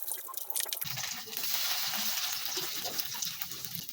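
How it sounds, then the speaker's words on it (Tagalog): Fritters of mixed ingredients dropped into hot oil, settling into a steady bright sizzle and crackle of frying that holds for several seconds, close and moderately quiet. "Pagkatapos ay iprito na."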